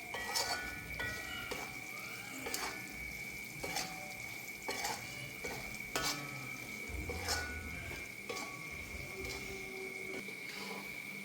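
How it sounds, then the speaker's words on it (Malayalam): Chilli powder fries in hot oil in a pan for a pickle, a steady sizzle under repeated clinks and scrapes of a spoon stirring against the metal, close and fairly quiet. "എണ്ണ കുറച്ച് ഒഴിച്ചു കൊടുത്ത് എണ്ണയിൽ കിടന്ന് മുളക് പൊടി മുരിയട്ടെ"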